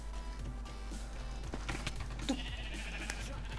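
Sheep bleats from a video game, short wavering calls rising over a steady hum of game sound and scattered clicks.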